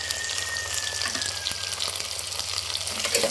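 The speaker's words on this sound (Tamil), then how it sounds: "நம்ம தக்காளியை போட்டு வதக்கிக்கலாம்" Tomatoes and curry leaves fry in a pan for a chicken kulambu, a continuous close, crackling sizzle with small popping spatters and occasional stirring scrapes, with no one speaking.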